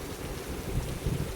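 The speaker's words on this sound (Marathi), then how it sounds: "धडाधड आवाज येते भावांनो. एवढ्या खतरनाक गारा पडतात." Large hailstones pound down during a heavy hailstorm with rain in Maharashtra, making a dense, continuous, loud drumming roar with no voices.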